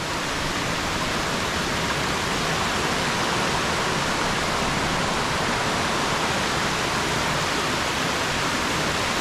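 Stream water cascading over rocks in the Mardale Valley, a dense, steady rushing roar heard close and unbroken, with no voices.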